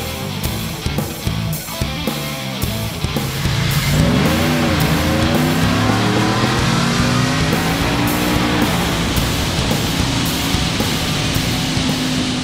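A 2022 Ford F150 pickup with a supercharged 5.0L ProCharger V8 revs hard on a dyno indoors, the engine note climbing and sweeping upward through the gears with a loud, sustained roar and a high supercharger whine.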